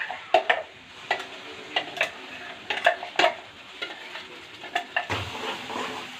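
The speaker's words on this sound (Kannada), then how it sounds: "ಚೆನ್ನಾಗಿ ಫ್ರೈ ಮಾಡ್ಕೊಬೇಕು ಅಕ್ಕ." Ground masala paste frying in oil in a pan, with a soft sizzle under repeated sharp scrapes and knocks of a stirring spoon, close and uneven in rhythm, with no talk.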